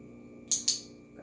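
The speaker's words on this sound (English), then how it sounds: "a clicker just sounds like that" Two crisp, close clicks from a handheld dog-training clicker snap in quick succession against a quiet room, followed by a faint brief sound.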